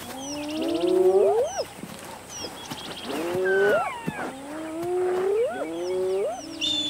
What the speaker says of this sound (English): The lioness tries to conceal her catch